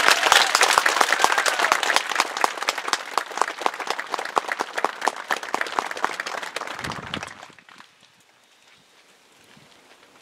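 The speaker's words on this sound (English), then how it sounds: "For them, you can clap right now." Crowd applause at an outdoor Memorial Day ceremony at the New Hampshire State Veterans Cemetery, loud dense clapping welcoming veterans home residents, lasting about seven seconds before quickly dying away to near silence.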